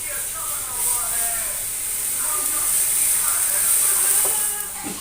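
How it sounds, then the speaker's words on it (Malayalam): Milk boiling in a pot gives off a steady, bright hiss and sizzle that swells slightly midway, with faint voices and small clinks in the background. "ഇപ്പൊ ഇത് നമ്മുടെ പാലിവിടെ തിളച്ചിട്ടുണ്ട്."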